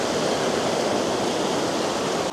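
Water rushing from the Intermittent Spring near Swift Creek outside Afton, Wyoming: a steady, loud, broadband outdoor roar of flowing water that continues evenly and drops slightly just before the end, with no voices.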